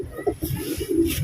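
Pet pigeons, a pair of Lal Chinna Takha birds kept by a pigeon fancier, coo in a short, close, low throaty burst of soft rolling notes.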